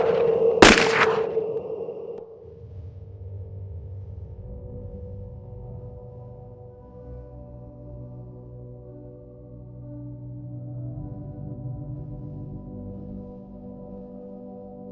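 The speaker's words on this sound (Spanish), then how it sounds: "sonaron los disparos" A firing squad execution in the Dominican Republic in 1861: one sharp, loud gunshot cracks out at the start, then fades into a long, low, steady hum.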